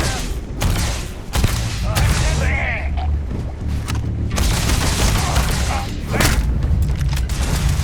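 Gunfire and explosions in the video game Starfield, with a loud, close mix of booming impacts and rapid shots continuing throughout, partly under game voices.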